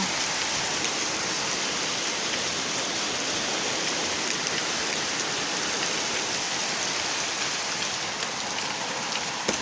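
Rain falls steadily outdoors as a constant, full hiss of drops striking surfaces, even in level throughout with no speech over it.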